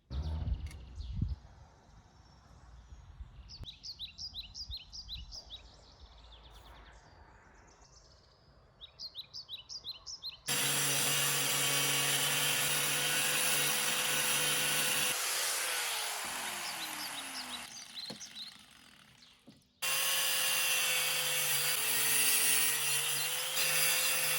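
A motorcycle steering stem for a Honda XL70 pit bike is cut down with a power tool. Birds chirp outdoors at first, then a loud, steady cutting whine runs for about nine seconds, stops briefly and starts again.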